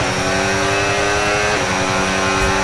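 A Formula 1 car's engine screams at high revs in the F1 26 racing game, a loud, continuous whine that dips briefly in pitch partway through before holding steady, with no voices.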